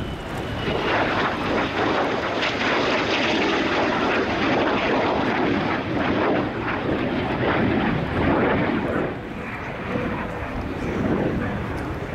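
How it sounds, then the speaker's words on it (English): A Lockheed Martin F-35B Lightning II jet makes a slow pass at the RIAT 2016 airshow. Its engine gives a loud, steady, broadband roar that fills the whole stretch, with faint commentary underneath. "As the aircraft returns to ground center, the pilot will complete a slow pass that shows the profile of the aircraft"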